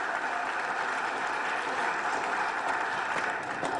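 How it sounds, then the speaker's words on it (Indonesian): Sustained applause from a political rally audience, dense and steady throughout with no pauses. "Tepuk tangan lagi."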